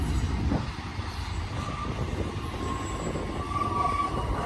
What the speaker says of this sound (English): Looks like it might be a Q train.